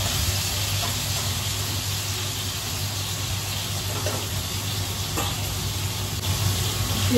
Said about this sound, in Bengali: মাছটার একটা সাইড ভাজা হয়ে গেল, এবার উল্টো সাইডটাও ভেজে নিচ্ছি